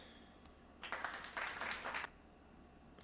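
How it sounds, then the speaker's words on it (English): A short burst of clapping from a small group lasts a little over a second, moderately loud against a quiet background, with a couple of isolated claps before and after. "Right, opera clapped for itself."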